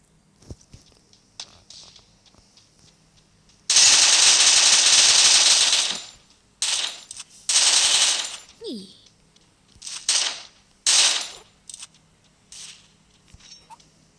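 Bursts of rapid gunfire in Free Fire, one long sustained volley then several shorter rattling bursts, with faint clicks between.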